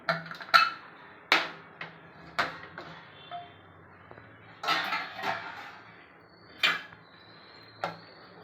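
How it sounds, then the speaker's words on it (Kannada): Several sharp metallic clanks and knocks ring out at irregular intervals as a pressure cooker lid is handled and lifted after the whistle, with quiet gaps between them. "ಈ ಕುಕ್ಕರ್ ಮುಚ್ಚಳ ತೆಗಿತಾ ಇದ್ದೀನಿ"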